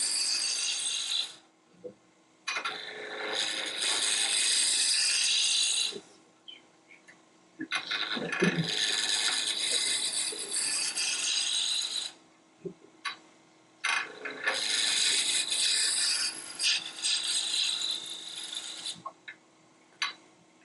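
Lathe gouge cutting spinning wood while turning a tiny Christmas tree, long loud rasping scrapes in three extended bursts with short quiet pauses between them.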